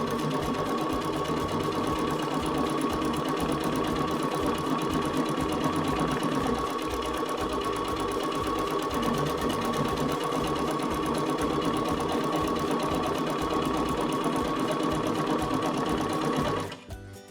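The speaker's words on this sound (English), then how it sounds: "now I can just touch the start-stop button and it's going to complete my buttonhole, lock in those stitches," A Baby Lock Jubilant sewing machine stitches a buttonhole in one steady, continuous mechanical whir that lasts many seconds and then stops abruptly at the end.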